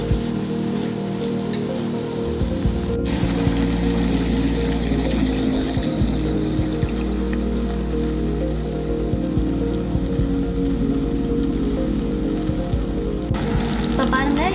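Chicken for home-style biryani fries in separated oil as basmati rice goes into the pot, giving a steady, loud, close sizzle that intensifies after the first few seconds.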